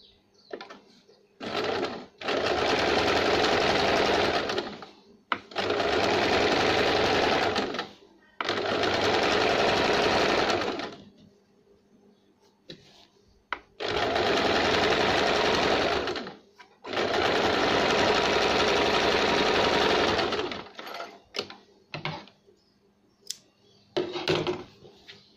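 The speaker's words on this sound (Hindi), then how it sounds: "फिनिशिंग के लिए एक सिलाई लगाएंगे।" A sewing machine stitches a baby frock in five long steady runs of rapid whirring, each several seconds long, separated by quiet pauses with small clicks and fabric handling, close and clear.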